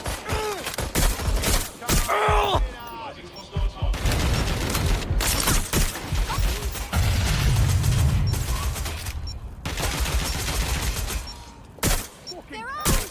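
Heavy gunfire in the video game Watch Dogs Legion, with dense bursts and single loud shots in a rapid, irregular fusillade, mixed with booms, mechanical clatter and short bits of voices.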